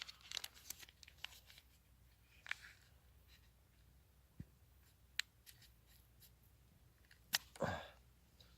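Scharde Tough Tool multi-tool scissors cutting through thick folded-up material: a few faint, crisp snips and crinkling cuts scattered across a quiet background, ending in a slightly longer rasping cut, with no talking.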